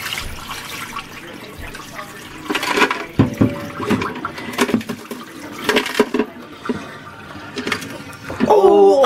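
Water is poured and sloshed out of a small container holding fish, coming in irregular splashing bursts with rustling handling between them and a louder gush at the close.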